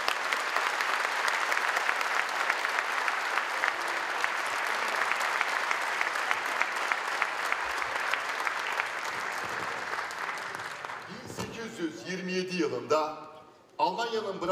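Sustained audience applause for Sunay Akın being welcomed onto the stage at a Nazım Hikmet Friendship Award ceremony, a dense steady clatter of many hands lasting about eleven seconds before it fades and gives way to speech.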